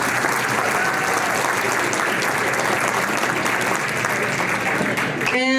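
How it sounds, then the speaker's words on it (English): Sustained, dense applause from a large audience greeting a guest of honor at an event, loud and continuous throughout, ending with a brief burst of other noise at the close. "So please, let's give her a round of applause."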